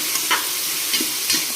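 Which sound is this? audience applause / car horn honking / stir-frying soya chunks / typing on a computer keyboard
stir-frying soya chunks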